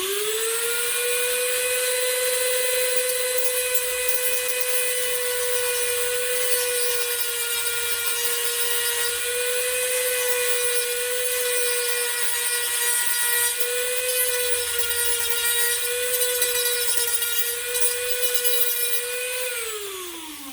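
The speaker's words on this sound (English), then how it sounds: "Let me cut a little bit more, and then I'll sand it down because I didn't cut that much." Rotary tool fitted with a small saw bit cutting into a model kit part, a loud, continuous high-pitched motor whine with a grinding edge, holding steady close by for about twenty seconds before winding down.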